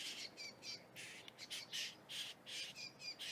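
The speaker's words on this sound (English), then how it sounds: "There's a little bird over here. There he goes, little finch." A small finch calls outdoors in a garden, repeating short, bright, harsh chirps in an uneven series, moderately close and without talk.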